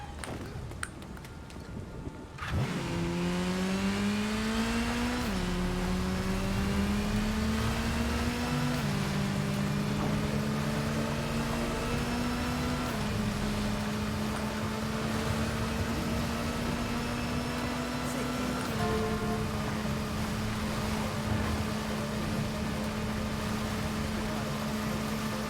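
Vehicle driven in the video game Gotham Knights, a steady engine drone rising in pitch through several gear steps, loud and continuous after a brief quieter opening.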